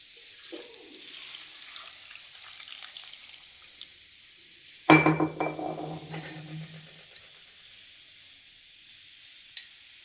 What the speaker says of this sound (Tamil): காலிஃப்ளவரை நல்லா கலவி அலசியாச்சு.